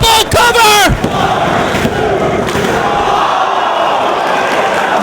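A packed pro wrestling arena crowd at a Ring of Honor event roars loudly and steadily, a dense sustained wall of voices, with a commentator speaking briefly at the start.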